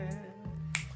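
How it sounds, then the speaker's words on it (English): A crisp finger snap lands once during a performance of a song, faint and near, set against sustained background music. "You can snap your fingers out there."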